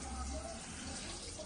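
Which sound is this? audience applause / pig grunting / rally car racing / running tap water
running tap water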